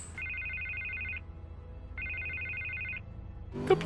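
A telephone rings in a Batman adventure video game, two even electronic trills about a second long each with a pause between, fairly faint and steady, ending with a short clatter.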